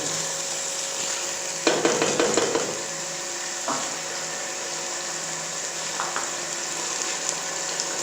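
Fish curry is stirred in a pan with spices, giving a short burst of scraping and clattering over a low steady sizzle, followed by a quieter knock and occasional light taps, no talking.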